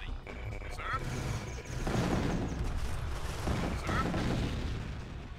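Gunfire and booming weapon fire from the real-time strategy game Command & Conquer: Tiberian Sun, dense and continuous across the clip with heavy low rumbles mixed under game sound effects.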